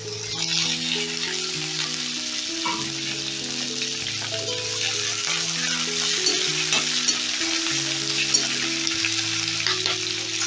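Tomato frying and being stirred in a pan with green chillies, a loud, continuous close sizzle with scattered scraping stirs, under steady background music.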